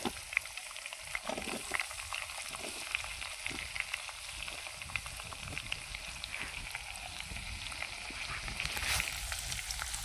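Chopped onion sizzling in hot oil in a pan over a wood-fired chulha, with cumin and garlic, a steady close frying hiss broken by scraping stirs of the spoon, no talking.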